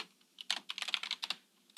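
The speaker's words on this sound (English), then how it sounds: "I'm not used to typing in this position." Rapid, uneven keystrokes on a computer keyboard during live coding of a C++ memory allocator, a burst of close clicks with short pauses, no talking.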